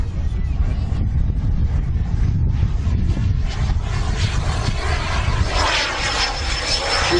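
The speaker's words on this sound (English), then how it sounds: "Now let's watch the burn. Come on, ready? See the burn? Watch the reheat go." A jet aircraft with reheat (afterburner) lit gives a loud, sustained roaring rumble with heavy wind buffeting, filling the whole stretch at a distance, with a brief faint voice beneath it.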